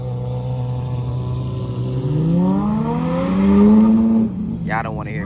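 Supercar engines at a car show rev hard and climb in pitch, a loud steady roar building over several seconds before cutting off, with a short higher whine at the end.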